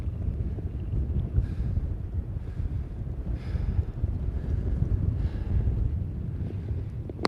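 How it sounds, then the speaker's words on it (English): Strong wind roars steadily across the microphone beside rippling water, a continuous low rumble with gusty swells throughout and no voices. "It is quite windy. It's very, very windy."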